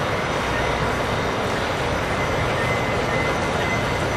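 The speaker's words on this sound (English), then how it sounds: "watching the train head off into the distance." A funeral train pulling away makes a steady, dense rumble of wheels and engine that holds evenly without pause, with no distinct horn or voices standing out.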